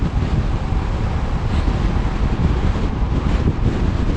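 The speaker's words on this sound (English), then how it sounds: "Woo, it's windy." Strong wind buffets a cyclist's microphone on a morning bike commute, a loud, steady rumbling roar with gusty swells and no talking.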